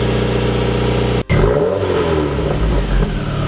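A Subaru FA engine fitted with a Corsa exhaust idles with a deep throaty drone, briefly cuts out, then is revved up, rising to a louder resonant growl that holds and eases back, heard close without talk.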